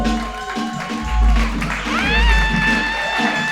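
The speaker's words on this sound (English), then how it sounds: "Yes, clap, clap, clap, clap, clap, clap" Comedy club audience applauding as a comedian is welcomed to the stage, a loud sustained wash of clapping with a voice rising over it partway through.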